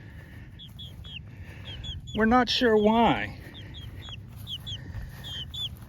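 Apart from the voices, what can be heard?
chicken clucking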